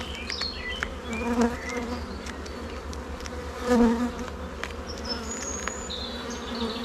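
A virgin queen honeybee pipes twice in distinct tonal bursts over the steady hum of a beehive, heard close by and without speech.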